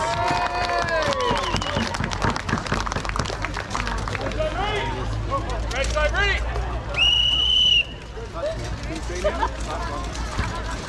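Crowd at a Warhounds combat event cheering and calling out for the fighters, busy babble of voices and shouts with scattered clapping and a whistle, loud and continuous.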